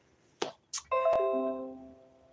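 A computer plays an electronic bell chime: a couple of short clicks, then a bright ringing tone with several descending harmonic notes that decay slowly, heard clearly alone in a quiet room.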